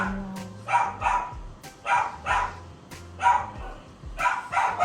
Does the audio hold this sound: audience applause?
no